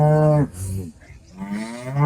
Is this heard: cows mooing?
yes